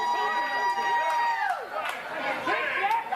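A wrestling crowd cheers and chatters loudly at a live show as Chris Jericho appears, with a sustained roar of voices and a few tonal shouts carrying over it.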